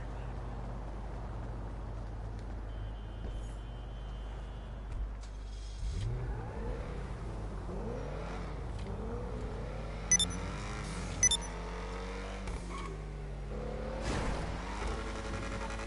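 Ocelot XA-21 supercar engine in a video game revving up and down in repeated rising and falling sweeps, fairly close, with a few sharp transient bursts and faint game sounds underneath.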